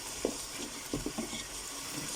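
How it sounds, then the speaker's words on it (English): Mutton being stirred as it fries in a curry pot, with a few soft scraping strokes and quick bursts over a steady low sizzle; no talking. "Let's just give this a stir."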